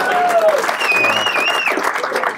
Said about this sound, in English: a round of applause for Sergeant Rosenfeld just for coming to work today